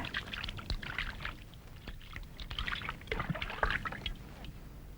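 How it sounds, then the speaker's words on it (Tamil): Water poured from a vessel to wash hands and feet in a Tamil comedy scene, heard as broadband splashing and trickling bursts through the clip, with faint background voices. "வாங்க, கை கால கழுவிக்குங்க. கழுவுங்க."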